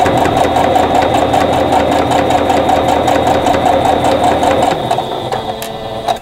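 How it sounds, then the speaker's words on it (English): A sewing machine stitches quilt block pieces together in a steady, rapid needle rhythm, loud and close, running continuously before slowing slightly near the end. "then sew the next piece onto it"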